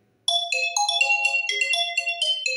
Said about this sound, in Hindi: ये जो सिस्टम रिंगटोन दे रखे ना, इसके अंदर इनकी जो साउंड है ना, ये थोड़ा लॉन्ग है